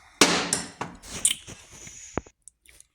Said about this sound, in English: What I'm doing is just a couple cranks on one, switch to the other, back and forth